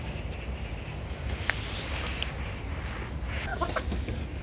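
Leghorn hens cluck softly in a yard after feeding, scattered low clucks at a distance under a steady hiss of ambient noise, with no talk.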